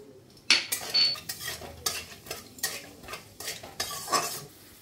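Peanuts stirred and fried in a pan for a sago khichuri make a series of loud, rhythmic scraping strokes, about one every half second, over a light sizzle, with no voices.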